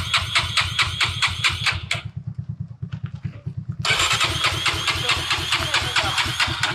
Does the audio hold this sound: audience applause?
no